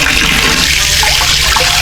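Strong water gushing in a campsite bathroom in Trawas, Mojokerto, a steady, loud broadband rush that runs without a break for the whole stretch, with no one speaking.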